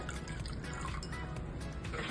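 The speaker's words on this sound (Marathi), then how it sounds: "त्यानंतर याच दह्यामध्ये थोडं पाणी घालूया" Water is poured into a bowl holding two spoonfuls of yogurt while making fasting-style dahi vada, a steady close splashing pour with no voices.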